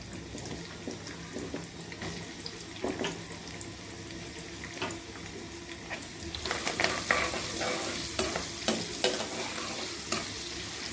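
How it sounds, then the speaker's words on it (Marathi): Onions with cumin and curry leaves sizzle steadily in a hot pan while a utensil scrapes and clinks against it, the stirring growing busier and louder toward the end. "कांदा चांगला परतून घ्यायचा लाल होईपर्यंत"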